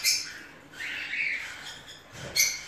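A lovebird chick gives a few short, shrill squawks, close and fairly loud, with a sharp final cry near the end and no speech.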